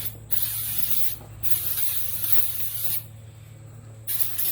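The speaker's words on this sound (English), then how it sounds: "So you want to clean them off with brake cleaner, wipe them down real good." Brake cleaner sprays onto new wheel bearing and brake parts for a 2005 Ford F150 in several close, loud hissing bursts separated by short pauses, over a low steady hum.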